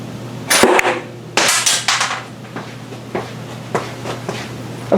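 Homemade pine blowdart fired indoors toward a window, giving a sharp puff and snap of the dart's release and impact, followed by a few softer knocks and rattles over a steady low hum.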